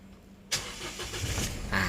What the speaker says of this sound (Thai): เครื่องยนต์ติดนะครับ ปกติดีนะฮะ